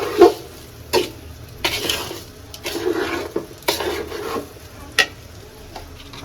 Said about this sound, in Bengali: মশলাটা দিয়ে মিক্স করে নিচ্ছি চাউলের সাথে ভেজে।